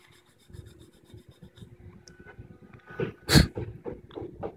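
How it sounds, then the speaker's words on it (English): Steel wool scraping around guitar fret ends, a soft rasping rub repeated in short strokes close up, swelling to one louder scrape near the end. "So I just take some steel wool. Kind of scrape around it."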